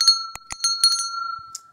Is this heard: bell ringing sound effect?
yes